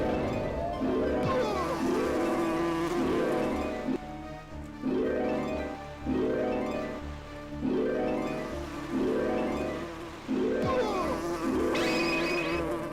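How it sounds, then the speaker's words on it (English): Buzzing bees in an MS-DOS video game, a loud droning hum that swells in repeated pulses about once a second, with a brief voice and other game sounds now and then. "Oh, these bees are the worst."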